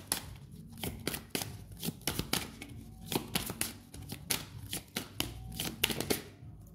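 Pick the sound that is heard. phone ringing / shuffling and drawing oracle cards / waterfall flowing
shuffling and drawing oracle cards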